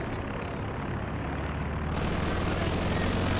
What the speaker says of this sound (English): Machine guns over here, making life very difficult for Isildur.